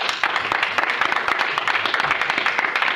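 A church congregation claps together during a sermon, dense rapid applause, steady and moderately loud throughout.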